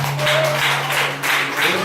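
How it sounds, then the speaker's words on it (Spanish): An audience claps in a steady, fairly close burst of applause, a dense patter of hands that swells and dips slightly over a couple of seconds with no talking over it. "Dale un aplauso a la mentira"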